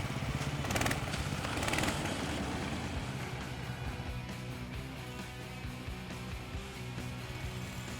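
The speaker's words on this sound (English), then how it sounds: "One more snow scooter with 20 HP engine." A snow scooter with a 20 HP engine runs nearby, a steady droning engine hum that is loudest at the start with a couple of throttle surges, then holds an even, rough idle-like tone.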